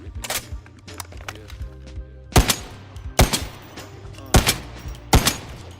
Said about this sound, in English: I wonder how this sounds suppressed